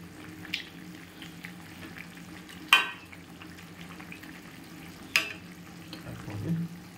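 Chicken pieces with slit green chilies simmer in a pan, making a quiet, bubbling sizzle with two sharp clatters of a utensil against the pan.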